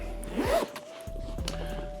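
A zipper on a Coach denim tote bag trimmed in blue leather is pulled open close up, a short rasping zip followed by soft handling rustles and a faint hum.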